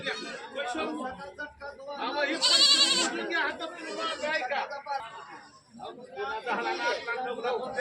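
Goats bleating at a goat and sheep market in Talegaon Dhamdhere, with loud wavering bleats around the middle and end over constant crowd chatter and talk.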